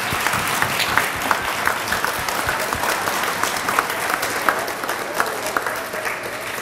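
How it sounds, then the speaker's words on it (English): A crowd at an elementary school D.A.R.E. graduation ceremony applauds steadily and loudly throughout, dense clapping with a few sharper individual claps standing out, no voices. "Let's give our graduates one last round of applause"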